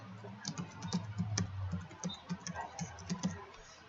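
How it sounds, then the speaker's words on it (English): Quick, light keystrokes on a computer keyboard, close and fairly quiet, coming in an uneven run of clicks for about four seconds with no talk over them. "In the General tab, we're going to type in Confidentiality."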